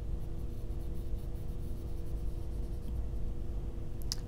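Fountain pen with a Japanese nib, an Opus 88 Koloro, scratches steadily across paper in a quiet room, a soft continuous writing rub with a brief brighter tick near the end.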